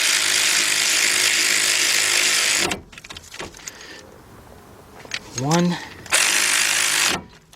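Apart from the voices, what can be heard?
ratchet tightening 14 mm caliper bolts on Jeep Patriot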